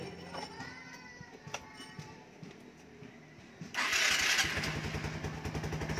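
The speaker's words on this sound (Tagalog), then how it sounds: "So, paandarin na natin yung kanyang motor." A motorcycle engine with a battery reading 13.3 volts cranks a few times, then fires and settles into a loud, steady idle for the rest of the clip.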